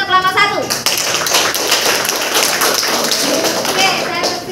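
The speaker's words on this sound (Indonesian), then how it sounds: "Aplaus untuk kelompok 1." Classroom applause for a presenting student group, dense broadband clapping that starts abruptly and holds steady and fairly loud throughout, with a few voices mixed in.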